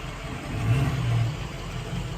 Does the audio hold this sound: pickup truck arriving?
yes